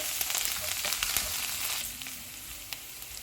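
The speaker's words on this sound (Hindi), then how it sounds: "इसको 1 मिनट तक फ्राई करेंगे।" Chopped garlic and ginger frying in oil over low-to-medium heat for a chilli chicken dish, giving a steady, close sizzle with small crackles throughout that eases off slightly near the end, with no voices.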